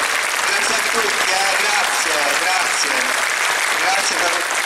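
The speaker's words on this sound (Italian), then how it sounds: "un applauso a tutta via Capitan Carabellese" Dense crowd applause fills a street during a religious procession bearing an icon of the Madonna dei Martiri, steady and loud throughout with faint voices mixed in.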